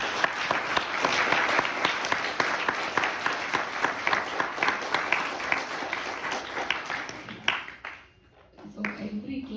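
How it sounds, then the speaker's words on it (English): A class applauds students with brisk, continuous clapping that holds steady for several seconds, then drops away as a voice begins speaking over a few scattered claps. "you have to give them a big applause."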